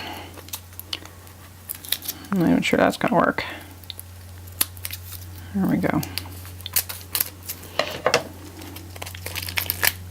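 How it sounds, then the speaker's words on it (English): Scissors snip and plastic shrink wrap crinkles in short bursts close by while unwrapping a tarot card deck, with brief quiet talk in between. "What would we do without our handy little scissors?"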